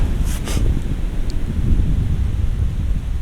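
Wind gusts across snowy Slide Mountain in the Catskills, a deep, steady low rumble buffeting the microphone with no voices.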